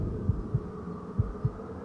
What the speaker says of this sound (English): Why does a heartbeat start it again?